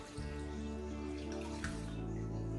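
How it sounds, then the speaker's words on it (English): Water pours into kombucha tea in a container, a steady close splashing stream that starts just after the beginning and runs on, with a brief louder splash partway through. "So I'll pour that, and I'm gonna add some more water."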